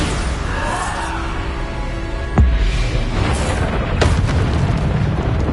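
A Bombarda blasting spell goes off in the Hogwarts Legacy video game: one sharp, loud boom with a deep low thud, then a second crack a moment later, over constant game ambience and effects.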